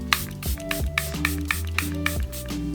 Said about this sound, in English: I go over my face with this setting spray